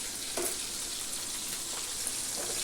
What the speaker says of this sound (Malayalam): ഇവിടെ ഒരാൾ മീനൊക്കെ വറുത്തുകൊണ്ടിരിക്കുകയാണ്